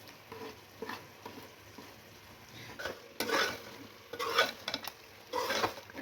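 Chicken karahi masala being stir-fried in a pan, with uneven bursts of scraping and stirring over a low sizzle, close by and with no talking.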